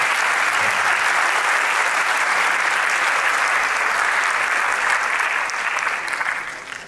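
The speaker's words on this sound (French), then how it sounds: "vos applaudissements pour la signature de la convention partenaire" Sustained audience applause at a congress opening plenary, greeting the signing of a partnership agreement between a foundation and a parks federation; dense, steady and loud for nearly seven seconds, easing slightly at the end.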